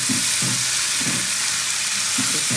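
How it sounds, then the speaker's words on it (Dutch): Fish frying in a pan of hot oil for a Surinamese bean sprout dish, a steady loud sizzle with rhythmic bursts of crackling spatter and stirring, close and continuous with no voices. "Zo, hij is lekker aan het bakken."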